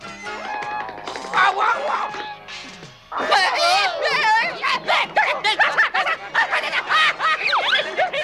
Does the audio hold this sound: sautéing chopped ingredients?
no